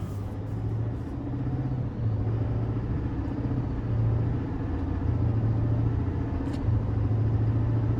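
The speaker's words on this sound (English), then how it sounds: "here we go on a test drive the GMC 3500 Duramax" A 2020 GMC Sierra 3500HD Denali dually with a 6.6-litre Duramax diesel drives along a road, its engine a low, steady rumble with gentle shifts in tone, heard from inside the cab at moderate volume.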